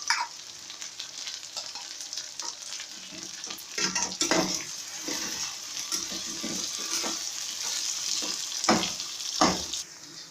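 Okra and green chillies frying in a pan, with a continuous crackling sizzle under repeated scraping stirs of a spoon, close and fairly loud throughout with no talking.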